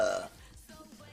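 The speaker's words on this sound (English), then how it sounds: "now that I've burped everything out" A single loud, close burp from a person opens the moment, then fades into low, quiet mouth sounds and breathing.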